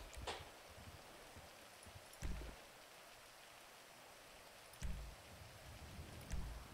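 Steady rain falls in a game roleplay setting, a soft continuous wash of drops with a few louder low thumps rising out of it at intervals.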